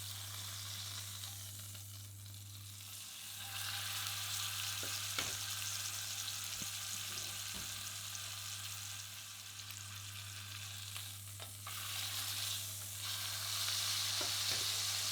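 Pork shoulder loin studded with garlic browns in a cocotte pot with a quiet, steady sizzle and faint crackle. A low kitchen hum runs underneath, and a few soft clicks and taps of the pot break through now and then.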